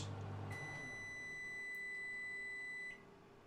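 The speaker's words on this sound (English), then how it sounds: "And as the microwave finishes," A microwave oven running on an EcoFlow Delta 2 Max power station finishes with a single long, steady electronic beep over a faint hum, then the hum drops off.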